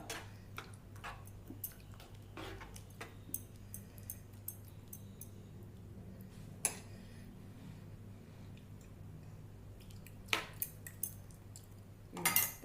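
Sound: stirring cauliflower kurma in a pot and covering it

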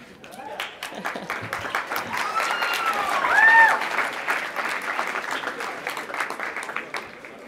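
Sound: audience applause at a live talk

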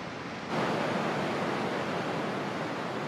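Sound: Angel Falls waterfall spray falling like rain

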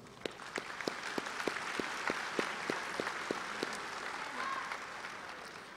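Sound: applause

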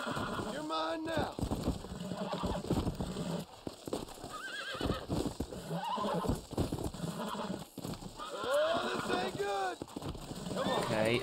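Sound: horse neighing and galloping in Red Dead Redemption video game

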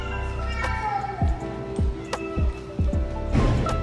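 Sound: stressed cats meowing

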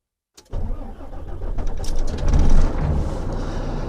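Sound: car engine cold start

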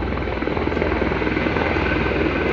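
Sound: helicopter arriving in Katra, Jammu

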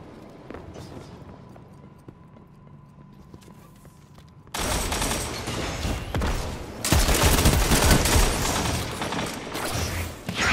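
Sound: gunfire in a video game

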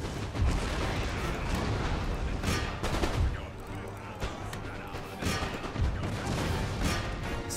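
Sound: musket and artillery fire in Empire Total War video game

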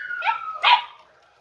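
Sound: Andalusian podenco puppy barking and whimpering

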